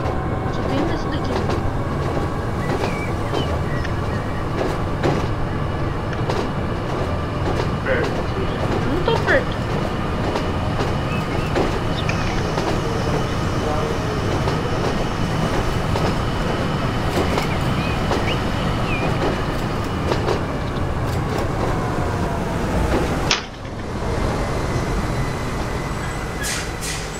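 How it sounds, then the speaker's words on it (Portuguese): Train running along the Brighton main line in Transport Fever, a steady close rolling rumble with faint rhythmic clicks that continues throughout, with a brief dip near the end. "esse trem aqui é real, ó. Real. Existe"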